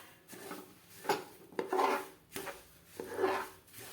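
Sesame seeds stirred into melted jaggery for til ladoo, a gritty scraping and rasping of a spoon through the sticky mixture in rhythmic strokes, close and moderately loud with no voices.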